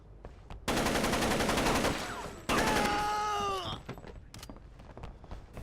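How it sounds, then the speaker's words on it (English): Automatic gunfire in the video game Rainbow Six Lockdown as a room gets shot up: two loud sustained bursts of rapid shots, the second followed by a groaning cry, then a few scattered single shots. "I shoot up this room."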